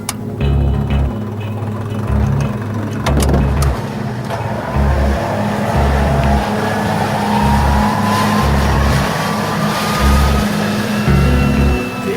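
A Whittle jet engine starts up with a loud, steady roar over a pulsing low rumble, while a thin whine rises slowly in pitch as it spools up. No one speaks.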